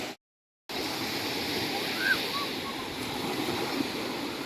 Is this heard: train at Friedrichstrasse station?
no